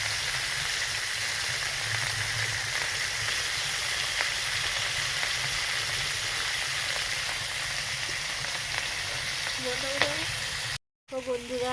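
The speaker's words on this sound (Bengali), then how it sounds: "মাছগুলো প্রথমে ভেজে নিচ্ছি" Hilsa fish coated in salt and turmeric sizzles steadily in hot oil in a home kitchen, a continuous close, bright frying hiss with small crackles and no clear talk.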